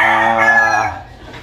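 A rooster crows once nearby, loud and clear, the call trailing off toward the end.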